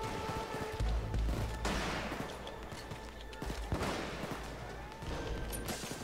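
Dense automatic and rifle gunfire in the heist video game Payday 2 on the Beneath the Mountain mission, sustained bursts rolling continuously over a low rumble with no talk.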